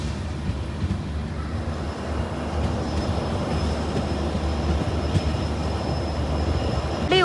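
A passenger train bound from Kadiri Devarapalli to Tirupati rolls along the main line near Obalapuram station, a steady rumbling roar with rail clatter and a faint high whine throughout.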